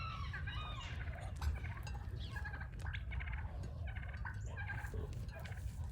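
Male turkeys gobble and chatter in a farmyard flock, a dense stretch of overlapping rattling gobbles and clucks over steady low background rumble, close and continuous.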